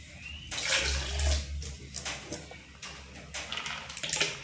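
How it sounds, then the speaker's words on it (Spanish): Liquid pours in a continuous splashing stream into a watermelon drink, close and moderately loud, with uneven gurgling surges and no voices. "vamos a echar un poco aquí de esencia"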